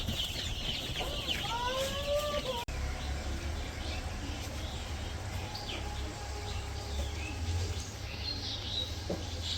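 Village chickens cluck near the microphone as they are fed, a few short rising calls early on, then a low steady background hum with scattered faint bird sounds.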